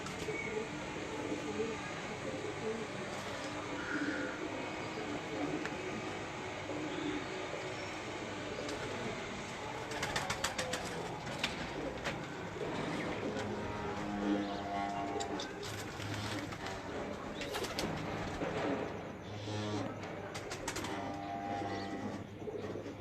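Breeder pigeons coo softly amid a busy background with a rumbling train-like drone and bursts of clatter; people talk nearby throughout.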